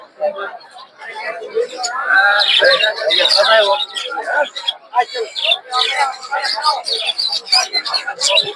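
Caged birds, budgerigars and other pet birds, chirp and tweet in quick bursts at a busy pet bird and pigeon market, close and lively, with people talking over them.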